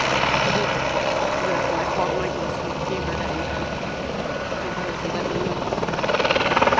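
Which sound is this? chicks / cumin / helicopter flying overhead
helicopter flying overhead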